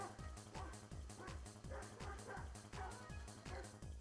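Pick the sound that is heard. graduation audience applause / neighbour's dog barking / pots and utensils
neighbour's dog barking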